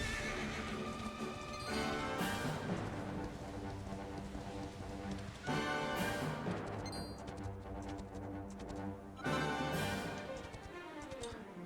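A horse in the video game Dragon Quest XI S neighs loudly three times at regular intervals over steady clip-clop hoofbeats, with a faint rain-like patter in the background and no talking.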